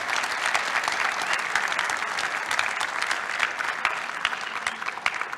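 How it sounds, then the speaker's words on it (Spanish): An audience at a security conference applauds after a talk, and the clapping is dense and sustained with individual claps standing out near the end. "Despedimos con un aplauso a Salvador Mendoza."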